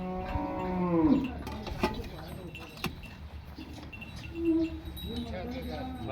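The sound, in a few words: cow mooing, Cholistani Friesian cross cow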